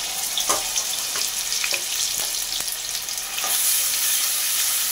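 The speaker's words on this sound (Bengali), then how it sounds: "পেঁয়াজটা দিয়ে ভেজে নিতে হবে।" Onion paste fries in hot mustard oil in a wok, a steady broad sizzle running throughout with a few brief stirring scrapes, growing slightly louder toward the end.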